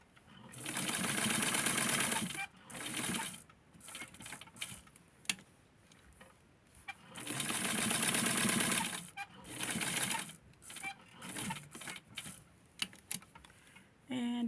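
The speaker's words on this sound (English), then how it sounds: "once I have Patrick sewed up" Sewing machine running through felt for a Patrick Star plush, with two long close bursts of fast stitching and shorter stop-start runs between, interspersed with light mechanical clicks.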